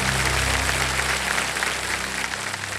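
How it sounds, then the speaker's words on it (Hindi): A studio audience at the quiz show Kaun Banega Crorepati claps in steady, dense applause that stays loud throughout. "ताली बज जाए देवियों सज्जनों"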